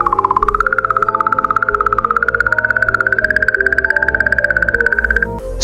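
Sonified recording of a comet in space: a steady warbling tone with a rapid pulsing flutter over low rumbling layers, continuous and fairly loud, ending with a brief break.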